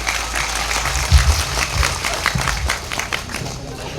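Audience applause at a religious gathering, a broad patter of clapping spread across the room, steady and moderately loud with a few heavier low thumps, no talk over it.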